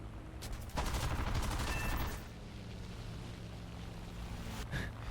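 Aircraft gunfire in the War Thunder aerial combat game, a rapid burst of rattling automatic fire lasting about a second and a half over a steady engine drone, followed by a brief faint second burst later.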